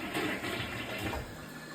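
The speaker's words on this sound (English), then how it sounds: "I'm gonna flush to see if that worked" A clogged toilet is flushed right after an unclogging attempt; a short, loud rush of swirling water fills the bowl without any voices.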